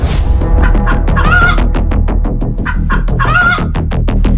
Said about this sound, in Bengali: ওই শয়তান শিয়াল দেখছি মুরগিটাকে ধাওয়া করছে।